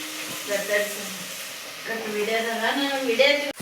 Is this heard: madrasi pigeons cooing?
no